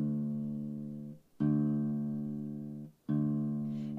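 An acoustic or electric guitar string is plucked with the thumb three times and left to ring out steadily for tuning, each note clean and sustained before fading, with no talking.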